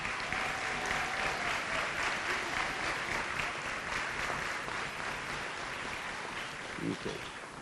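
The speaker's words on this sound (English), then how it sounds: "Let's give them a round of applause." Sustained applause from a crowd at a benefit event, even and full throughout, with a brief voice emerging near the end as it tapers slightly.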